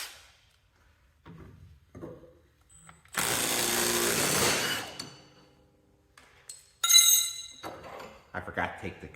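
An impact wrench rattles in a loud burst of about two seconds as it removes a spindle nut on a Cub Cadet 1650 lawn mower. Clanks of metal parts and handling noises come before and after.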